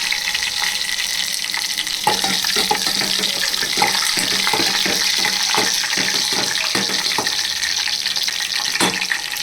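Garlic and dried red chillies frying in hot oil for a South Indian sambar, a continuous bright sizzle with scattered crackles and pops, fairly loud and close, no voice.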